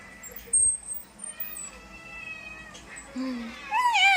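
House cats meow in a few short, rising calls amid quiet household background, with a louder, wavering meow near the end.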